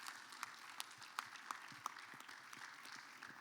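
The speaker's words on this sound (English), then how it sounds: "I think they have not received a well-deserving round of applause" Sparse, faint clapping from a small audience at a sports panel discussion, a few distinct, separate claps punctuating quiet room tone rather than a full ovation.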